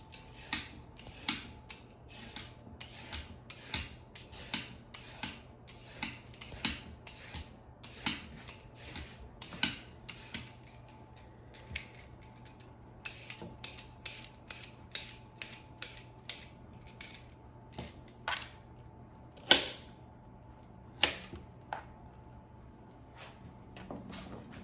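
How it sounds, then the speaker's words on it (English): Carrots are peeled and sliced into thin diagonal pieces in a home kitchen, giving a long run of faint, irregular scraping strokes and crisp cutting clicks over a low background hum, with no voices. "And now I will peel the carrots and cut them into thin slices."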